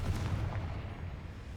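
The Confringo fire spell bursts in the Hogwarts Legacy video game as one heavy, booming blast that rolls off into a low rumbling decay.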